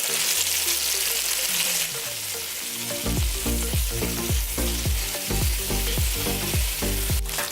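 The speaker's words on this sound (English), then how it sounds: "my chicken has been frying for about 6 minutes" Steady crackling sizzle of chicken frying in a pan, with a rapid series of sharp taps and scrapes from about three seconds on, close and loud.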